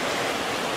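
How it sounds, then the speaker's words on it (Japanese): A shallow mountain river running over stones in autumn, a steady close rush of water with no voices in this brief moment. "下まで来ました。 川です。"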